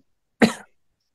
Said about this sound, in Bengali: একটু কাশি আসতেছে।